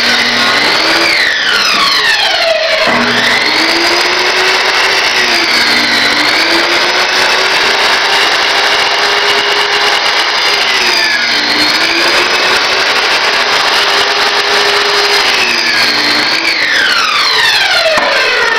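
A power saw cuts a wooden support block for a Mittleider sprinkler watering system. A loud, steady motor whine runs throughout, with the pitch dipping and rising as the blade moves through the wood.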